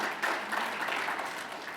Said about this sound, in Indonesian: Tepuk tangan dulu bagi Tuhan Yesus